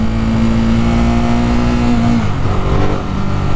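A 2018 Ducati Monster 821 motorcycle in sport mode revs hard and loud up close, its engine note holding a steady high pitch for about two seconds before dropping as the throttle eases, then pulling again.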